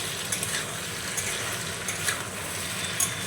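Potato and capsicum curry cooks quietly in a pan, a soft low sizzle with faint scrapes and a few light clicks of a spoon stirring, close and fairly subdued.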